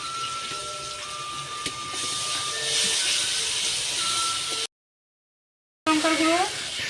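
Spices with ginger and chilli paste and chilli powder are fried hard together in a pan for a fish-head curry, giving a steady hiss and sizzle throughout. A voice is heard at the end, and the frying continues beneath it.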